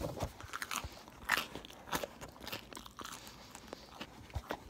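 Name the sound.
crunch of biting a pizza bagel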